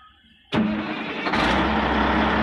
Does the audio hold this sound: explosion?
no